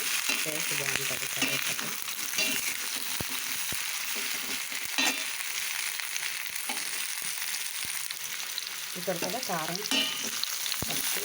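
Drumstick curry fries in hot oil with chili powder and curry leaves, a dense, continuous sizzle with stirring scrapes and a few sharp clicks of the spoon against the pan, close and steady throughout.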